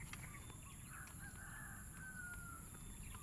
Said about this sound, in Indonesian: Itu burung.